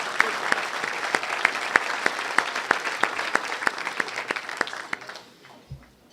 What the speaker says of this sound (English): get a round of applause for all their hard